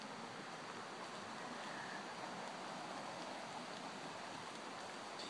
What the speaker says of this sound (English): Whoa, listen to that water.